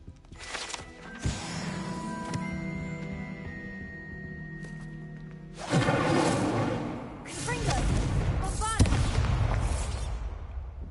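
An Incendio fire spell is cast in Hogwarts Legacy with whooshing, roaring bursts of flame, one early and a longer surge from the middle onward, layered over game music and effects.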